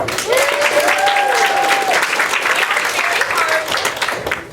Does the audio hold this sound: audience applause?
yes